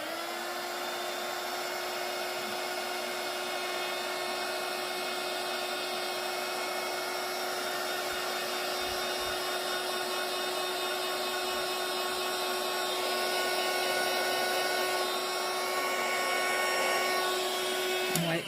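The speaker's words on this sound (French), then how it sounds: "je vais essayer de faire avec le heat gun" A heat gun blows hot air steadily and loudly throughout, a constant broadband whoosh with a faint electric whine, used on a craft project for a Santa sack, with no talking.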